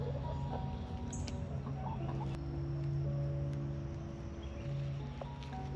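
Chickens cluck in a backyard garden, a steady run of calls over a constant low hum, moderately close with no talking.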